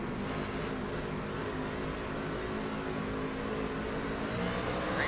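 A race car engine in a racing video game on an oval speedway, droning steadily and loudly at high revs throughout with little change in pitch.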